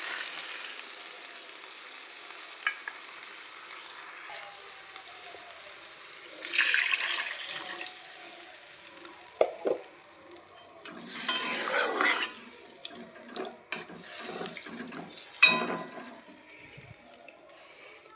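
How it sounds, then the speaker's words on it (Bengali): Water is poured into a pan of fried rohu fish curry, giving intermittent splashing and sputtering bursts over a faint background hiss, with several louder surges of hissing sizzle spread across the clip. "এবার আমি জল দিয়ে দেবো।"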